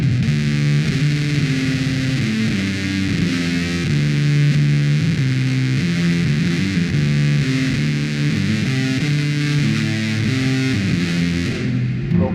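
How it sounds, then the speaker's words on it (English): A Castedosa Conchers bass played through a La Raza Fuzz pedal with reverb added, giving a thick, distorted, sustained riff that plays continuously and loudly throughout. "We add some reverb onto that."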